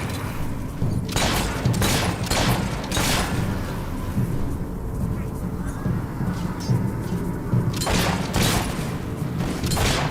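Rapid bursts of gunfire from the Fable 3 video game crack repeatedly over a steady game soundscape, with clusters of shots at the start and again near the end, while someone talks over the action.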